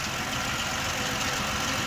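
A 2006 Ford Explorer with the 4.0 engine idles at normal RPM, a steady, continuous mid-to-low engine drone with no voices over it.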